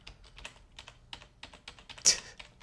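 Rapid keys tapped on a computer keyboard while playing a game with the arrow keys, a steady run of light clicks ending in one louder, sharper press.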